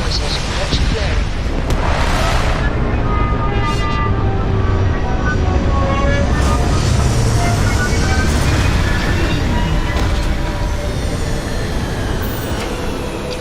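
A spaceship in the Starfield video game sets down with a loud, sustained engine roar and deep rumble that fills the whole stretch, with a rising whine and shifting tones layered over the steady thrust.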